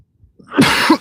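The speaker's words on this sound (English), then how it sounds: "Whatever they just released is making me cough and sneeze." A person coughs at close range after gas is released into the air, with a soft throaty lead-in and then two harsh, rough cough bursts in quick succession, alone without talk.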